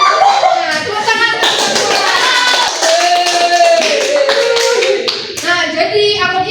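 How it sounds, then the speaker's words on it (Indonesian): A classroom of students claps hands together on a teacher's cue during an accounting lesson, a dense, sustained burst of clapping lasting several seconds with some voices mixed in. "tepuk tangan."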